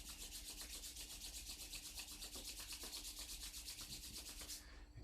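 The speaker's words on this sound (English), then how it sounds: "Let's rub the palms together." Palms rubbed briskly together during a yoga session, a close, even series of rapid dry swishing strokes running continuously before stopping abruptly near the end.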